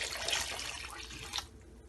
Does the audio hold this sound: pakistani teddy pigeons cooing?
no